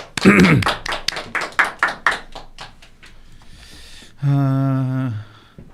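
A few people in a Korean political talk-show studio clap to welcome a guest, about ten sharp, close claps in a quick, uneven rhythm, followed by a brief sustained voiced tone.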